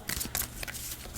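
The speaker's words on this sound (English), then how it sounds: "you will shuffle your deck up," Someone shuffles a deck of game cards by hand, producing quick, close riffling bursts of papery flicks in an uneven rhythm.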